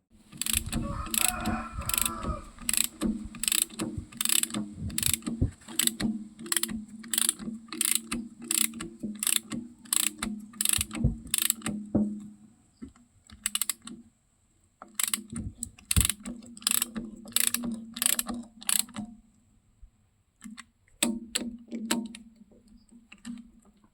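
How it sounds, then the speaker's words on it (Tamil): A ratchet wrench tightens twelve thread-locked bolts on a JCB gearbox, giving rapid, evenly spaced clicking in long bursts with short pauses between, close and fairly loud with no talking. "த்ரெட் லாக் இதில் லைட்டாக போட்டு பன்னெண்டு போல்ட்டும் டைட்டு வைக்க போகிறோம்"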